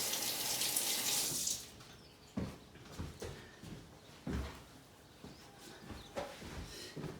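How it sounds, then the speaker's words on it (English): Hands are washed under a running kitchen tap while making tiramisù. A steady stream of water plays at first, then gives way to intermittent splashes and taps near the sink. "let's just give a wash of the hands"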